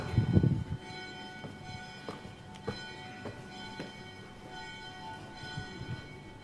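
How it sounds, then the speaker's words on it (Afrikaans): A church bell rings at a Christmas Day service, with sharp repeated strikes about once a second, each leaving a long ringing tail over a low rumble at the start. "daarna kan ons die klok lui"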